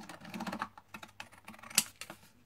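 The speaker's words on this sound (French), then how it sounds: "Vous prenez un ciseau cranteur." Pinking scissors snip around the edge of a paper card, a close run of short, crisp crunching cuts with a sharper snap near the end and no speech.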